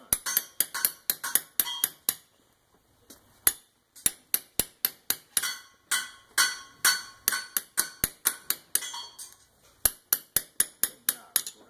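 Rapid close metal hammering on a horseshoe nail while pulling a shoe, dozens of bright ringing taps in quick bursts with a short pause partway through, loud and without talk.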